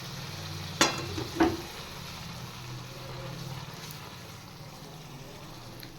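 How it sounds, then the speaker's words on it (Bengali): Pabda or parshe fish frying in oil in a pan as the pieces are lifted out onto a plate, with a soft steady sizzle and two sharp clinks of a utensil early on. "মাছ ভেজে রাখা থালায় নামিয়ে নিচ্ছি"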